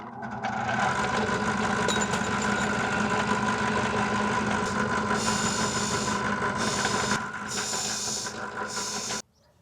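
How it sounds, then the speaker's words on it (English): Cut metal pieces are deburred on a soft grinding wheel, a steady close motor hum and whir with bright grinding hiss in bursts toward the end, then the wheel cuts off abruptly. "I'm going to just deburr them on this wheel because it's nice and soft rather than the big flapper wheel"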